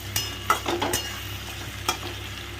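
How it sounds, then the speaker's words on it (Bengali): Fish curry in a pan is stirred after a pinch of sugar goes in, with a few scraping strokes and light knocks over a soft, continuous simmering sizzle, close and moderately loud. "দিয়ে আবার একটু নেড়ে দিই।"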